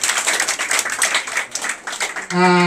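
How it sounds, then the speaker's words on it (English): An audience applauds with dense, steady clapping that ends abruptly in a sustained musical tone. Someone may speak faintly over the clapping. "Let's give them a big round of applause."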